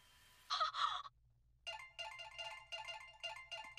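A mobile phone ringtone chimes in a repeated melodic pattern of short bursts, preceded by a brief separate tone, fairly quiet over a low steady hum.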